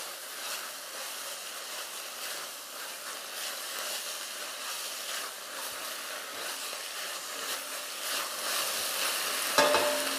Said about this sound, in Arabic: ونحرك مليح